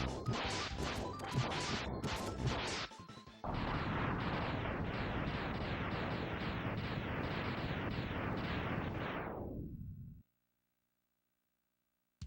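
Mega Man X torpedoes launch in an unrelenting stream, loud, dense and crackling bursts that pulse rapidly, pause briefly, then resume before sweeping downward and cutting off to silence.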